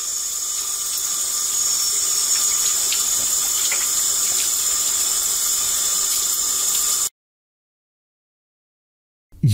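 Steady hissing spray of water from a bidet runs continuously for several seconds, then cuts off abruptly into silence.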